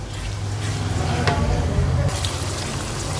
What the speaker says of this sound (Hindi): इसको डालेंगे और इनको उस वक्त तक हम भूनेंगे जब तक ये टमाटर हमारे मेल्ट नहीं हो जाते